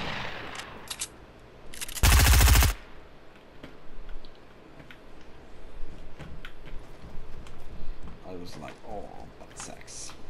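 Gunfire in Fortnite, with a loud close burst of rapid shots early on followed by scattered lighter shots and game noise, while a player talks throughout.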